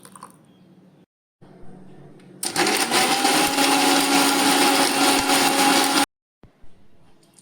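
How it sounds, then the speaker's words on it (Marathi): A kitchen mixer grinder grinds coconut chutney with salt and water, a loud steady whirring roar lasting several seconds that starts abruptly and cuts off sharply, with quiet handling noises before and after. "आता हितूत थोडेसे मीठ घालून घ्या आणि उदक घालून हे आमची चटणी वाटून घेऊची।"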